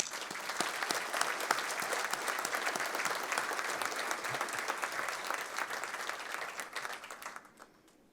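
Sustained audience applause welcomes a speaker to the stage at a large event, dense clapping at steady volume that tapers off near the end.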